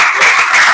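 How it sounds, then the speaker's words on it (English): Sustained applause from an audience honouring a retired professor at an environmental roundtable, a steady dense wash of clapping with no gaps. "Please, I'll give him a round of applause"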